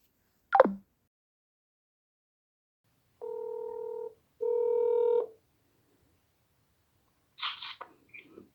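A telephone number is dialed, with a short click, then two steady electronic tones separated by a brief gap, and a faint chirp near the end, all in an otherwise silent room.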